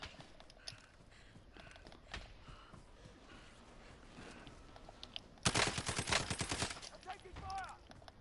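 Rapid video game gunfire in a dense burst of automatic shots, fairly close and loud, standing out above quieter footsteps and background ambience, with light talking nearby.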